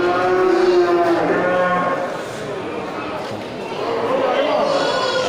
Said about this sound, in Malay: banyak kambing dan banyak kambing jantan dan betina yang masuk ke pasar hewan.